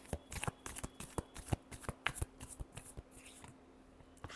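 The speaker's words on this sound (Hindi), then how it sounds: "last shuffle" Tarot cards are shuffled by hand in a quiet room: a dense run of soft, rapid riffling flicks and slaps, close and steady, easing off near the end with no talk.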